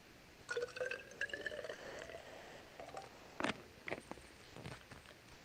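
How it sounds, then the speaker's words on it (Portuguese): About 40 mL of water is poured into a lab sample in glassware in an analytical chemistry lab. Soft trickling and dripping splashes come in short bursts, faint and close, in a quiet room without talk. "Vou adicionar mais 40 ml de água."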